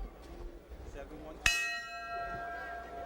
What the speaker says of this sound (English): Bell sounds to bring the battlers into the center of the ring for round 2.